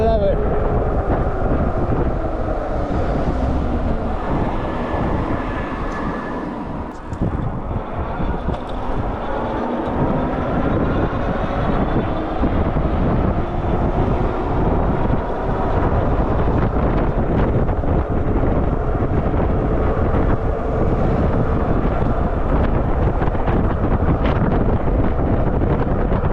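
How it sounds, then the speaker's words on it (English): Loud, steady wind buffeting the microphone while riding outdoors on a Kingbull Literider electric bike in summer, a continuous roar with gusty swells that persists for the whole stretch. "I feel like we're going against the wind here"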